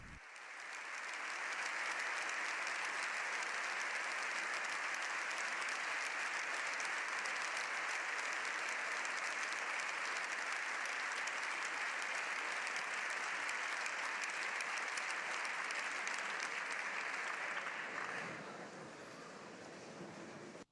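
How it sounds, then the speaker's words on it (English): Sustained applause fills the chamber of the Spanish Parliament at the Congress of Deputies for Pope Leo XIV, a dense, steady roar of clapping lasting many seconds before easing slightly near the end. "The Holy Father is receiving a sustained applause from the Spanish Parliament."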